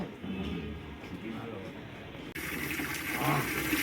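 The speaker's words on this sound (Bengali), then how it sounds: "বাবা কতদিন পরে এরকম স্নান করছো" Water is poured over an ill father during a bath at home, a continuous splashing gush that cuts off briefly and then resumes, heard close with people talking over it.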